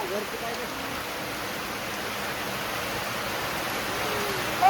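Steady, dense hiss of heavy rain falling continuously, even and fairly loud throughout with no voices.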